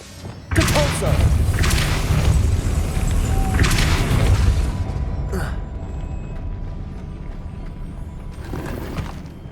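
A Depulso force spell in Hogwarts Legacy hits with a heavy thudding boom, followed by several seconds of rumbling, clattering impact noise that gradually fades, with a few fainter thumps afterward.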